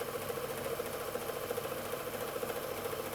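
Electronic sewing machine motor running steadily at about 23 to 24 volts DC, a faint, even mechanical whir with a light rhythmic pulse and no talk.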